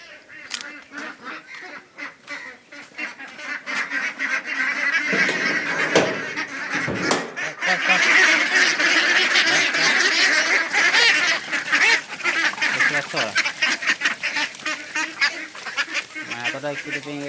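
A village farm flock of about seventy ducks honks and quacks loudly at feeding time, a dense, continuous racket of many overlapping calls close by.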